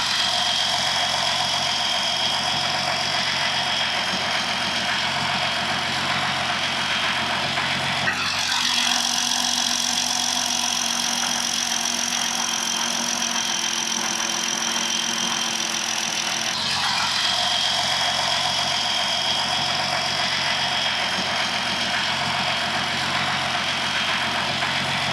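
Jeep engine idling steadily after an oil change, a continuous close mechanical hum with a faint whine and a slight change in tone partway through, with no talking.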